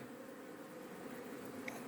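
A dense, steady buzz of a honeybee colony humming together at close range, with no voices.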